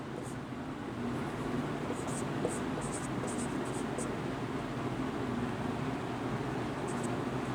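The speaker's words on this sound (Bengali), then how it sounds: "আর একটা বাক্য আমি লিখছি" Chalk or marker writing a sentence on a classroom board, faint rhythmic scratchy strokes in short bursts over a constant background hiss of room noise.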